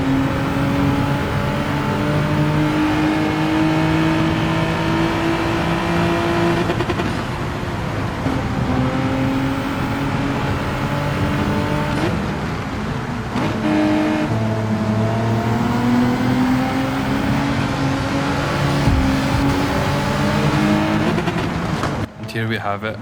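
Race car engines in Gran Turismo 7 rev and drone loudly and continuously, rising and falling through gear changes with an occasional tire squeal as a German Audi is chased, under steady commentary.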